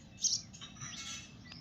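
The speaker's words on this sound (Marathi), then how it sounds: "सकाळ सकाळ चिमण्यांचा कालवा" House sparrows chirp in quick, high bursts against a quiet morning background, a brief lively twittering at moderate distance.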